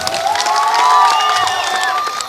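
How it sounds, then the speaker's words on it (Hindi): Crowd at a political rally for Nitin Nabin with Manoj Tiwari cheers, shouts and whoops loudly, a dense, close wash of voices and clapping swelling in the middle. "5 पार्टी मतलब 5 शीर्ष नेता मले पांडव, इलो खातिर जोरदार ताली बजे के चाहिए"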